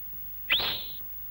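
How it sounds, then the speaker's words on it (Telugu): A single rising whistle blown by a person as a signal on a street, loud and close, sweeping upward then holding steady for about half a second before stopping. "3వ విజిల్ వేసేస్తా."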